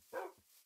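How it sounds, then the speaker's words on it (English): A dog in the video game Minecraft gives a single short, soft bark, faint and brief with a small trailing tail. "Oh, that's a dog."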